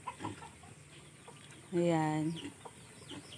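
A chicken near backyard chicken coops lets out a loud drawn-out cluck, with faint softer clucks before and after and someone speaking briefly nearby.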